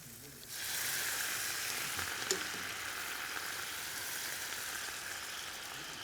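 Lobster and mushrooms caramelize in a pan, a soft, steady sizzling hiss that starts after about half a second and continues evenly at low volume, with one small pop.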